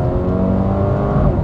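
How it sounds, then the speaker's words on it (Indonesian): A Mercedes-AMG A 35 Sedan with AMG Speed Shift transmission accelerates hard, its engine note loud and steady with a quick gear change heard near the end, no voices over it. "Cepat sekali ini perpindahan giginya."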